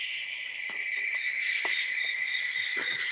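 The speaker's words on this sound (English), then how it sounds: "It's like a blanket of crickets on that one" A dense chorus of many crickets chirps as a loud, continuous sound effect, with a few faint knocks underneath.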